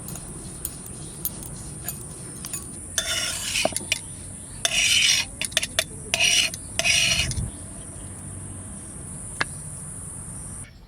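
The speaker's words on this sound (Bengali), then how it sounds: "এইরকম করে সব বীজগুলো বেটে নেব।" Jackfruit seeds being ground on a village grinding stone, with several bursts of rough rasping stone-on-stone rubbing over a constant high insect drone.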